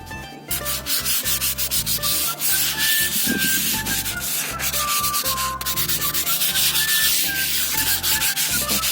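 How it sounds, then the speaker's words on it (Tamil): Exterior wall putty is sanded lightly by hand before primer. It gives a close, steady scraping rub in quick repeated back-and-forth strokes, with no voices. "லைட்டாக தேய்ச்சிட்டு அப்புறம் ப்ரைமர் அடிக்கணும்"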